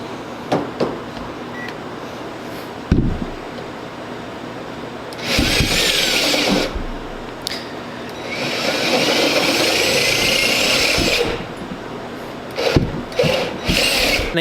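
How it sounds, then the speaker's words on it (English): A power drill driving a homemade hole cutter, with short bursts of motor whine and grinding at first, then a longer sustained high-pitched drilling run, broken by pauses and a few knocks and clatters. "as best as you can, start drilling."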